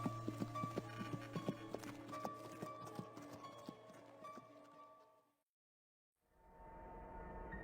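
Horse hooves clip-clop steadily over a rhythmic musical backing, loud and close, then everything cuts to silence for about a second before the sound resumes more quietly.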